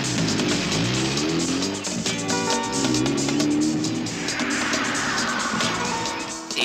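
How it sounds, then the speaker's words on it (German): A car engine roars and revs hard as the vehicle speeds away, with rising harmonic tones of acceleration and a brief tire squeal, loud and continuous over a dense, noisy background, with no voices. "Gib Gas. Fahr wie der Teufel."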